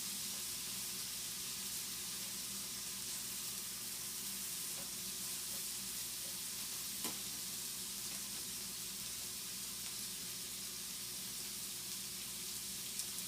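Bacon fries steadily in a pan for okonomiyaki, giving a continuous close sizzle and hiss with a faint crackle and no talk.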